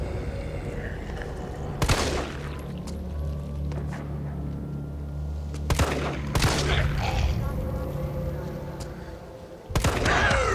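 Gunfire in Resident Evil 3 Remake comes as a few loud, sharp shots spaced several seconds apart over a low droning background, with a voice talking in between.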